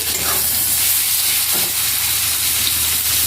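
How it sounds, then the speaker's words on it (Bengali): Tomato goes into browned fried onions in a pan for butter chicken, giving a loud, unbroken close-up sizzle and hiss with no talk. "পেঁয়াজটা আমার লাল লাল করে ভাজা হয়ে গেছে টমেটোটা দিয়ে দিচ্ছি"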